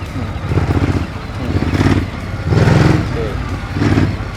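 A 2019 Ducati Hyper 939 motorcycle engine idling nearby in low rumbling pulses that swell and fade, with someone talking over it throughout.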